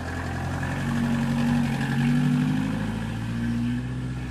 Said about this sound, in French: C'est la voiture passée